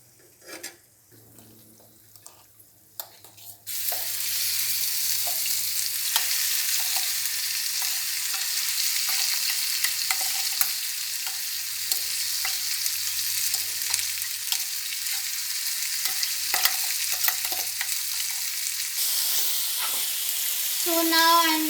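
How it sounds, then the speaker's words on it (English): Mango rice stirred in a frying pan over low heat, Andhra style. A quiet scrape or two comes first, then a loud, continuous sizzle with a spatula scraping the pan, heard close and steady with no talking. "So now I'm mixing it."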